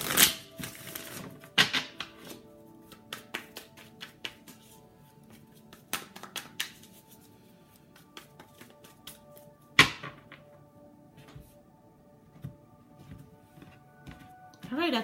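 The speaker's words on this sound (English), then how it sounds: "Bear with me as I shuffle." Soft, scattered tarot card shuffling and tapping with a few sharper slaps, faint and close, a quiet room tone underneath.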